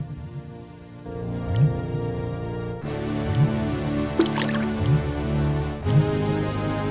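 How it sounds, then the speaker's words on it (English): Acid rising in the video game Space Quest 6, with wet dripping and gurgling blips over a sustained musical drone, the bubbling pops recurring every second or so. "The acid rises, but just not quite high enough to submerge those nanites."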